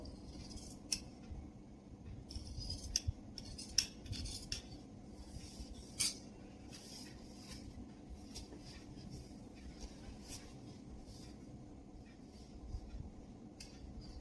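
Scissors snip through lining fabric along the back armhole of a salwar, giving a series of quiet, irregular close-up clicks and crisp cuts over a soft background hiss.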